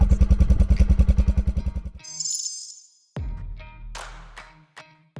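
Italika V200 Adventure motorcycle with twin rear-facing exhausts, its engine pulsing in a loud, rapid throb for two seconds, then a brief quiet before further mechanical revving and clatter nearby.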